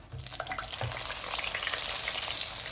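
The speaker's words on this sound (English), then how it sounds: "I've heated up the oil to extremely high temperature, and we'll do the second fry now." Meatballs of tofu and pork double-frying in very hot oil, a steady loud sizzle that builds after a brief start and holds dense and continuous.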